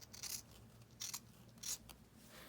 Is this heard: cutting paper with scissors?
yes